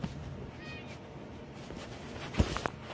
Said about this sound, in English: Kitty's angry.